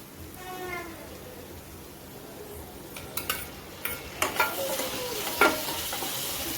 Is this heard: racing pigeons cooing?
no